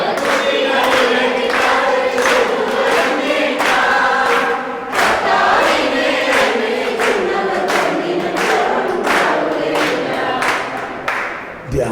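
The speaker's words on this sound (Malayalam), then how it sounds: "എല്ലാവരും ശബ്ദം ഉയർത്തി ഒന്ന് കൈയടിച്ച് പാടിയേ." A retreat congregation claps in steady rhythm and sings together, loud and close, with the clapping sustained throughout and the voices swelling beneath it.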